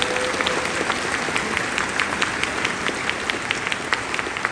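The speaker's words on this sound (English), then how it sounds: "Big round of applause, by the way, for our safety team for handling that." Steady, dense applause from a convention audience at an opening ceremony, sustained and fairly close for the whole stretch, with individual claps standing out over the crowd wash.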